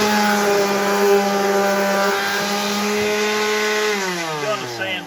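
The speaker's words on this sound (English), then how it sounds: "going to sand this off." A power sander runs on the plywood edge banding with a steady, loud motor whine and a gritty rasp, then spins down and drops in pitch near the end.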